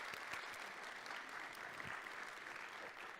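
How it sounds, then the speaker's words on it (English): An audience claps steadily for a guest at a talk on food, community, culture and economy, a dense, even round of applause filling the room without a break. "let's give her a round of applause"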